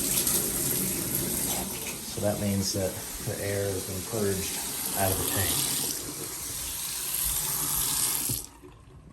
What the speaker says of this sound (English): At this point, we've got water coming out of all these fixtures.